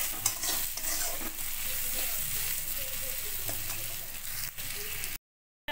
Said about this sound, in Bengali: পেঁয়াজটা আরও একবার ভেজে নেব।